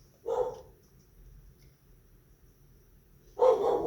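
A dog barking at someone at the door indoors, two short bursts of barks separated by a quiet pause, moderately near.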